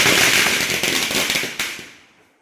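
Firecrackers burst at a family celebration gathering, a dense crackling barrage of sharp snapping pops with a few louder bangs near the end before the sound tails off.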